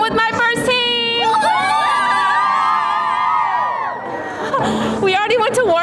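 A loud crowd at a cheerleading competition fills the space with continuous whoops, high shouts and cheering from many voices, with a few sharp yells and claps standing out near the start and end.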